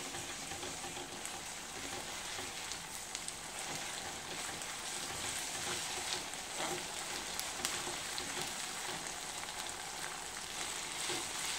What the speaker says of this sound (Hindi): देखिए हल्का सा मैंने भून लिया है लहसुन अदरक के पेस्ट को